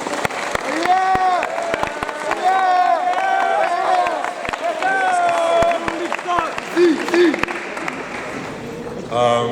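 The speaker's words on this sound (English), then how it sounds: "Big round of applause, please" At a youth sports award ceremony, scattered claps and cheers greet the under-16s regional coach, sparse sharp hand claps mixed under loud overlapping voices of the crowd.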